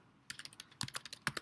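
Quick bursts of typing on a computer keyboard while writing code, crisp clicky key presses in three short clusters separated by brief pauses, close and alone.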